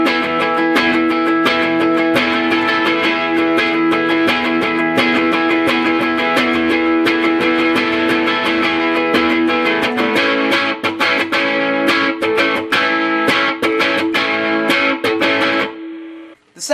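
Distorted electric guitar plays the lead part with effects, loud and sustained over a continuous strummed and picked passage, growing choppier and more percussive toward the end before cutting off.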